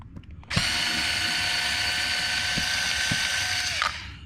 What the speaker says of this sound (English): we're going to pull these 2 screws out of the shafts